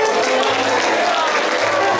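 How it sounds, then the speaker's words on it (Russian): Applause from an audience at a women's contest show, a dense continuous patter of clapping filling the whole stretch at steady loudness. "Браво, аплодисменты, аплодисменты"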